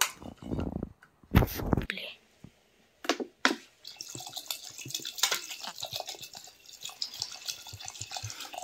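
Water splashes and trickles into a pot of goat trotter soup in uneven bursts, close and moderately loud, with a person talking over it.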